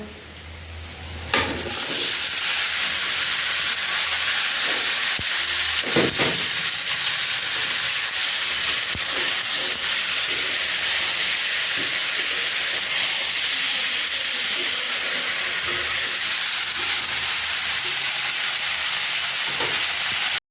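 Tomatoes hit a hot pan with kalonji seeds in a village kitchen, bursting into a loud, steady sizzle and hiss that runs continuously with a few faint scrapes and clinks, no talking.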